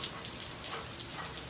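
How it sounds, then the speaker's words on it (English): Steady rain falls on a Wednesday afternoon in the aftermath of Hurricane Harvey amid flooding, an even hiss of drops with no voices. "it is raining"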